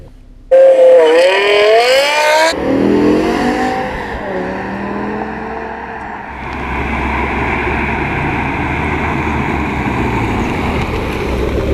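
A BMW M5 E60 launches hard using launch control: a loud engine roar rises through rapid upshifts, then settles into a sustained, steady drone of acceleration.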